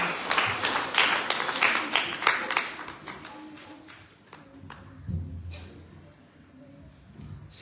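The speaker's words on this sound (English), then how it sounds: "Let's give a round of applause for Tiffany." A round of applause at a birthday celebration, a crowd clapping loudly at first and then thinning to scattered claps, with a voice speaking during the clapping.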